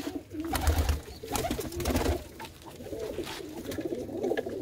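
Flying-contest pigeons bred over many years coo repeatedly close by, a steady run of soft burbling calls rising and falling without a break.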